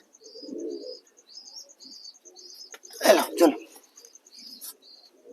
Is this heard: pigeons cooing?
yes